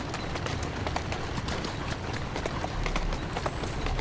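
Horse hooves gallop in a steady, rapid rhythm in the Assassin's Creed Syndicate video game, moderately loud and close over a dense bed of ambient game noise.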